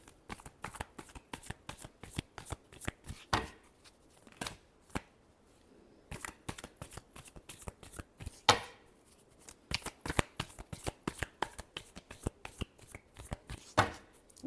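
Tarot cards are shuffled by hand in a long run of quick, crisp riffling clicks, rapid bursts with short pauses between them, close and fairly quiet.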